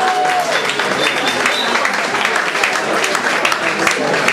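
Continuous clapping rises from an audience at a Nigerian school alumni event in the UK as a speaker is welcomed, a dense, even patter with crowd chatter mixed in.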